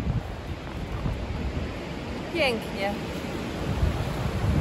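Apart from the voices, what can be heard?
wind blowing on a hiking trail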